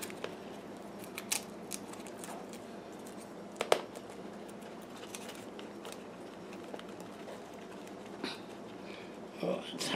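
Scissors snip plant leaves for propagation, cutting them to follow the leaf's shape; several soft, crisp clicks come close and irregularly, with quiet handling noise between them.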